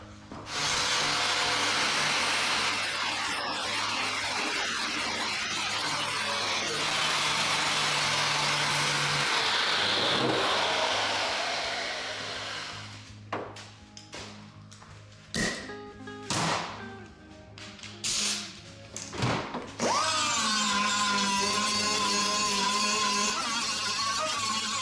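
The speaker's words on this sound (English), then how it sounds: "finish grinding it" A power grinder works metal panel fillers for the underside of a car hood, giving a sustained loud whine, then choppy on-off bursts and scraping contacts before grinding steadily again.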